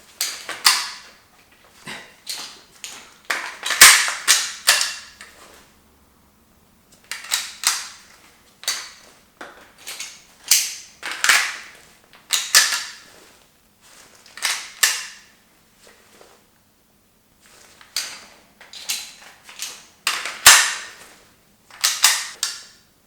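Repeated reloading and firing of a T4e magfed paintball pistol: sharp mechanical clacks, snaps and pops in quick bursts separated by short pauses, close and loud with no talking.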